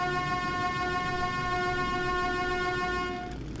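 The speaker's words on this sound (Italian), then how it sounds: "c'ho anche il clacson!" A rail vehicle horn in the game Metro 2033 blares as one steady, loud, harmonic tone for a few seconds, then cuts off abruptly near the end, with a low engine rumble continuing underneath.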